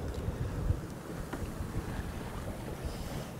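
Sailboat running under sail alone with its engine off at almost six knots on the North Sea near Stavanger. Steady wind rushes and buffets across the microphone over a low wash of water against the hull, with no voices.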